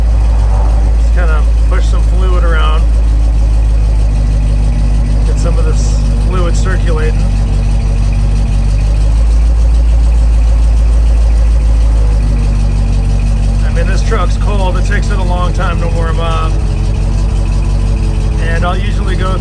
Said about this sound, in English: I'm just letting that pump just kind of push some fluid around.